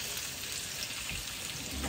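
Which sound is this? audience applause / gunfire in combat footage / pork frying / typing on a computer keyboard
pork frying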